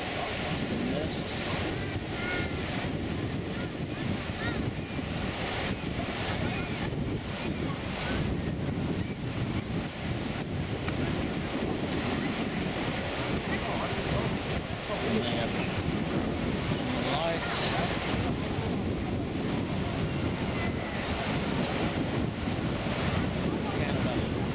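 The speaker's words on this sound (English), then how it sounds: "These are the Canadian Falls at dusk." Canadian Horseshoe Falls at Niagara, seen from Goat Island at dusk, gives a steady, broad roar of falling water, mixed with gusty wind buffeting the microphone.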